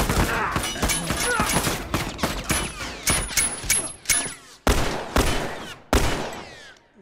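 Rapid gunfire bursts and single shots from the video game The Last of Us Remastered, loud and close, with thuds and a voice talking over the shooting.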